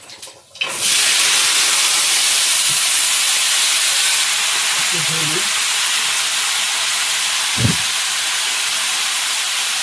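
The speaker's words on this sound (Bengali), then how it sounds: "কড়াই একটু তেল দিয়ে দেব, তেলের মধ্যে একটু ফোড়ন দিয়ে বরবটিটা ঢেলে দেবো।" Green beans (barbati) dropped into hot oil with tempering spices in a kadai set up a loud, steady broadband sizzle that holds after a brief quiet start, with a couple of faint knocks underneath.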